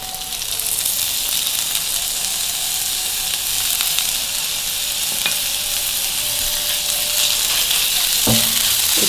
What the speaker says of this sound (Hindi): प्याज हमारा नरम हो चुका है, इसके अंदर डालेंगे अदरक लहसुन का पेस्ट।